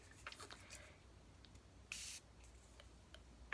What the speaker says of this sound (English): I'm going to spray it with some Morphe setting spray.